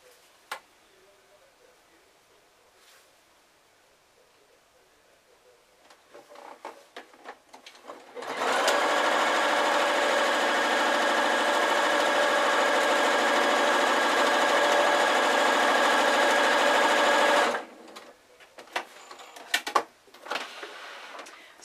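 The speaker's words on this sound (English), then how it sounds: "And then sew together the lining side." A sewing machine runs steadily for about nine seconds, stitching together the lining of a drawstring Christmas sack, with quiet handling clicks before and after the sustained even whir.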